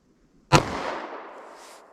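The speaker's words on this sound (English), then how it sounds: "38 Special through our MDF, our chest shot" .38 Special +P Speer Gold Dot round fired from a short-barrel gun at an MDF target, one sharp, loud gunshot crack followed by a fading echoing tail, with no talking.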